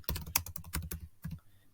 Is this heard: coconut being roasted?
no